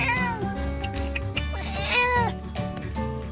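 A cat newly brought home from a rescue center meows repeatedly in rising, wavering cries, close and fairly loud, with household clutter and low background noise between the calls.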